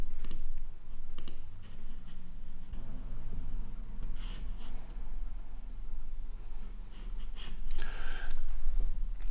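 Typing and mouse clicking on a computer while logging in to WordPress: sharp, close clicks scattered over a constant hum, with a few short bursts of key taps.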